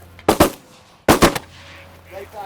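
Two sharp, close shotgun blasts go off about a second apart as hunters fire at ducks coming into an oat field, each crack followed by a short echoing tail, with faint voices afterward.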